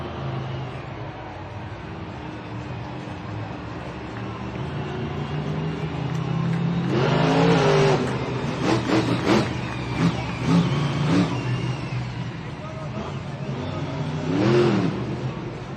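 Monster truck engines at a Monster Jam race in Stockholm, Sweden, rumble steadily, then rise into loud revving bursts with sharp throttle blips and crowd noise, easing and surging again near the end.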